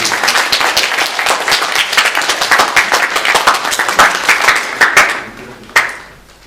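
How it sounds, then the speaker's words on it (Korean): Church congregation clapping together to celebrate three members' birthdays during a Sunday worship service, a dense steady round of applause lasting several seconds, thinning out near the end with a final scattered clap. "우리 세 분 다 같이 박수로 축하드립니다"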